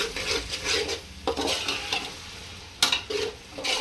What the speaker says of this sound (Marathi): पेस्ट चांगली कच्चापणा जाईपर्यंत चांगली परतून घ्यायची आहे तेलामध्ये भाजून घ्यायची